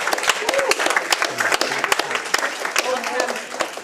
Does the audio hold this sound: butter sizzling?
no